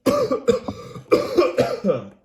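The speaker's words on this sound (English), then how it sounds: "I apologize for my loud coughing" A run of loud, hoarse coughs close by, about five harsh bursts in quick succession with brief gaps between them.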